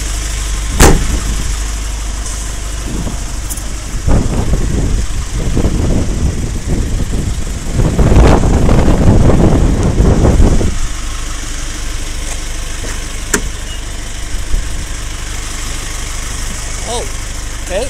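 A 2007 Chevrolet W5500 crew-cab truck with a 5.2 liter diesel idles with a steady low rumble, partly covered by someone talking nearby.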